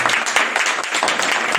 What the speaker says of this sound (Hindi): यीशु के लिए एक जोरदार ताली बजाओ।